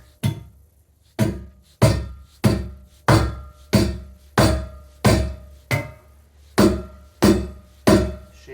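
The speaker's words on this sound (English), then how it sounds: "Shave the head of my hammer back a little bit" A hammer drives into wood bridging a seam in a concrete basement floor beneath a century-old house, about a dozen loud, evenly spaced ringing blows close by with no talk.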